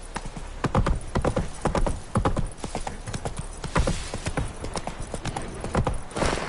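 Roach, the horse in The Witcher video game, gallops with loud rapid rhythmic hoofbeats close by, with a snort or whinny among them.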